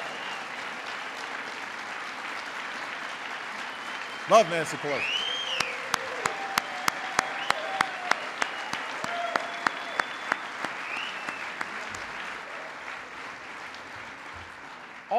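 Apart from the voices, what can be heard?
audience applause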